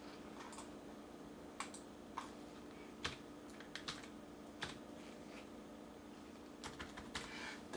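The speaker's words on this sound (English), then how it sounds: "You can type in your password." Password typed on a full-size desktop computer keyboard: scattered light key clicks in uneven bursts, fairly soft and close, over a steady background hum.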